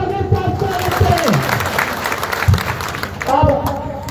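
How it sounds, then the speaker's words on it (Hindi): Rally crowd at an OBC Mahasabha social movement gathering in Pawai applauding to welcome a speaker, steady clapping and crowd noise throughout with a voice speaking over it. "उनका भी जोरदार तालियों के साथ स्वागत करें"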